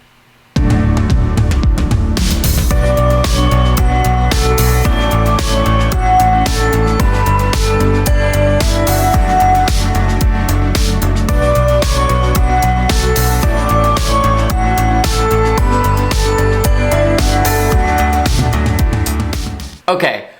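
The full instrumental of the self-produced single plays together: a dense, loud mix of bass, arpeggiated synths and drums running steadily for about twenty seconds before cutting off near the end.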